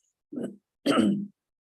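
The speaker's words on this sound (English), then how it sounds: "obviously my throat just started clearing" Someone clears their throat twice, a short rough rasp followed by a longer, fuller one, close and otherwise quiet.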